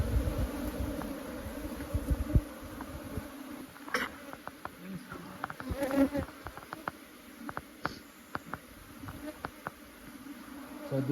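Honey bees buzz steadily around an open hive as a frame is inspected for queen cells. The swarm-ready colony gives a close, continuous hum with brief louder passes of individual bees and occasional handling knocks.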